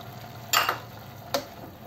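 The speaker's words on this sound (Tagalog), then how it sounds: "Haluin lang ng konti." Spicy creamy vegetables being stirred in a pan, two short scraping strokes of a utensil over a low background hum.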